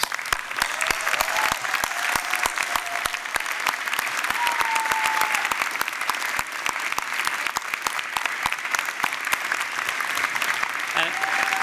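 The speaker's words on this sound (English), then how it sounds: "Let's give them a huge round of applause." Sustained applause from a large audience at a university convocation ceremony, steady and full for the whole stretch, with a voice briefly audible beneath the clapping.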